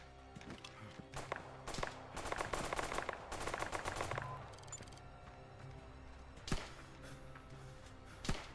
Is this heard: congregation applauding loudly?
no